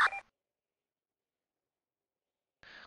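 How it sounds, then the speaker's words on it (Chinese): Telephone dialing while placing a call: two short bursts of electronic beeps, one at the start and one at the end, with near-total silence between them. "好，我等一下打给他看看。"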